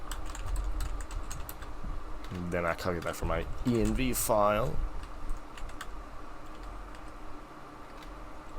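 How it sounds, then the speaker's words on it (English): Keyboard typing on a computer while coding and editing a settings file, dense rapid clicks and taps running through the clip, close to the microphone, with a voice talking over the middle part. "You can hear me mashing my keyboard,"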